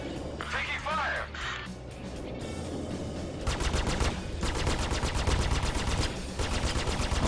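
In the Star Citizen game, an Aegis Sabre ship is hit by rapid repeater gunfire. Brief sounds and a voice come first, then a fast, continuous stream of loud impacts runs to the end.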